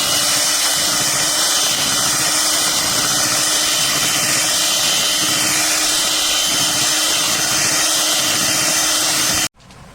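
An electric mixer on its lowest speed beating ground coconut for a coconut rava cake, a loud steady whirring hum that cuts off abruptly at the end.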